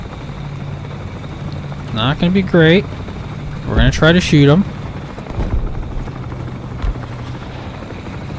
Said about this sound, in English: And I hear a helicopter.